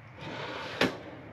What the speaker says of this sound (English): So you have drawers that pull full length.